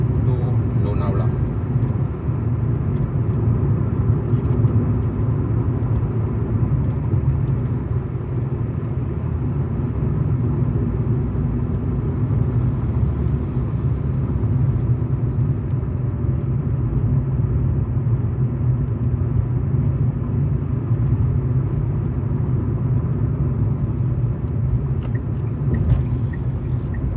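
A car cruises along the Mumbai-Pune Expressway toward Lonavala in monsoon weather, giving a steady, loud, unbroken road and engine rumble for the whole stretch.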